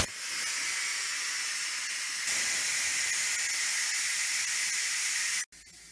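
Steam hissing out of an Instant Pot pressure release valve switched to venting, a loud steady close-up hiss that briefly grows stronger, then drops sharply near the end to a weaker stream.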